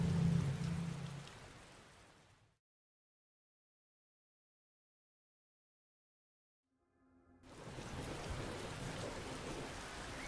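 Steady rain with rumbling thunder fills the first couple of seconds, fades out into a few seconds of silence, then returns as a constant downpour.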